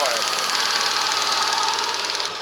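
A car engine runs steadily on LPG gas, a close, dense, even drone with a faint rhythmic knock that dips slightly at the very end.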